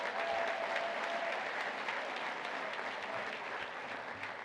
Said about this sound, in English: Give them all a round of applause, will you?